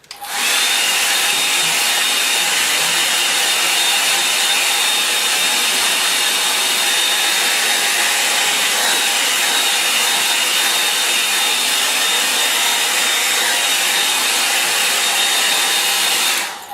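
A hair dryer blows loud and steady at close range over a watercolour painting of a Scottish highland cottage, a continuous whooshing roar with a faint whine that runs without a break.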